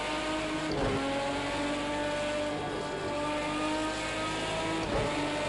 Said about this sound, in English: I love the sound of rally cars, man, from past and present.